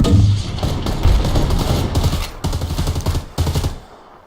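Gunfire from the video game Predator: Hunting Grounds, a loud, dense stretch of rapid automatic shots that keeps going through the whole moment. The bursts are broken by a few short gaps.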